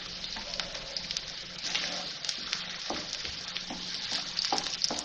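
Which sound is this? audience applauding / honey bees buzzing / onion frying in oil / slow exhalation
onion frying in oil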